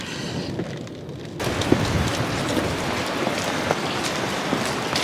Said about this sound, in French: je peux vous dire qu'il pleut, c'est la tempête